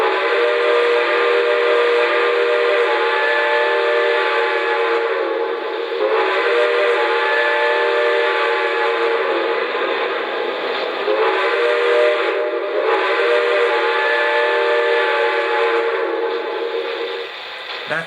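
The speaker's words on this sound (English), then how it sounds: "The whistle on it is just amazing, and we're going to be hearing that in a couple seconds." A Lionel NYC Commodore Vanderbilt model steam locomotive sounds its electronic steam whistle in several long, loud blasts with short breaks between them, heard alone with no talking.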